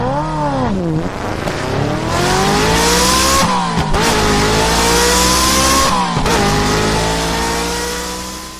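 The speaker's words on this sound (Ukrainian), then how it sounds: "мотоцикл." A loud motorcycle engine revs hard, its pitch climbing and dropping through several gear shifts with brief dips between surges.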